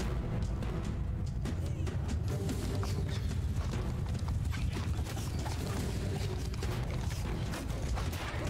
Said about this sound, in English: Horse archers come this way this time.